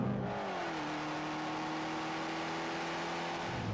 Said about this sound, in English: what is up with that exhaust note? That is exhaust porn.